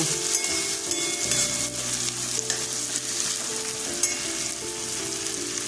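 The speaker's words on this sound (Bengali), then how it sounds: "এবার আমি শুটকি পেস্ট ছেড়ে দেব আর শুকনো লঙ্কা গুঁড়ো দেব" Onions and dried fish paste frying in a pan, with a loud, continuous sizzle and crackle up close, plus some tonal background hum and occasional stirring, no voices.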